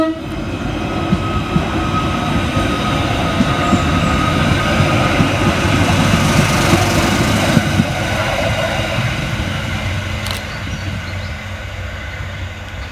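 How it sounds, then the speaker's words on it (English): Merseyrail class 777 electric train departing Liverpool Central station, a loud close rumble and rising electric whine with rail clatter that gradually fades away as the train pulls out. "Next out to depart is 777-144 with the 11:19 Merseyrail electric service from Liverpool Central through to Headbolt Lane."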